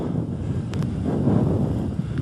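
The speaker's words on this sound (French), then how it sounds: "Alors aujourd'hui, en plus, il y a pas mal de vent." Wind blowing on a Tour de France stage route in the Basque country between Saint-Pée-sur-Nivelle and Espelette, a continuous low rushing buffet across the microphone, fairly loud and steady with no talk.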